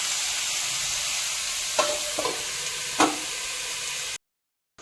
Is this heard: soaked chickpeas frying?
yes